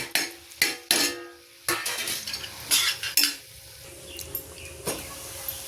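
A chayote and carrot stir-fry (poriyal) is tossed in a pan. A utensil knocks and scrapes against the metal in irregular bursts over a soft, low sizzle, with quieter gaps between strokes.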